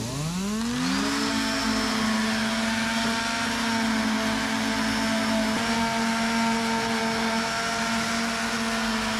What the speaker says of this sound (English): I'm just tapering back the filler so it's smooth and not like a lip